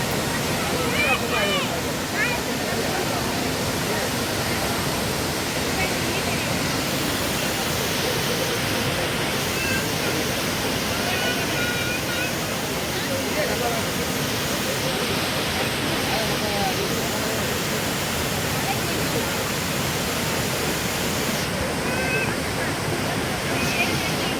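Loud, constant roar of the 300-foot Palaruvi waterfall cascading nearby in Kollam district, Kerala, a dense unbroken hiss that never lets up.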